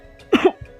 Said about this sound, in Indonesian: Xiaoyan tidak bisa menahan batuknya